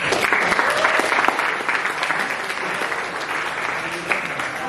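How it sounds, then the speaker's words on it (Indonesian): A school audience at a Bank Indonesia outreach event claps together in a sustained, even burst of applause that stays strong throughout. "Boleh berikan tepuk tangan?"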